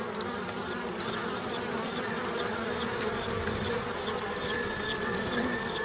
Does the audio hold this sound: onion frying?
no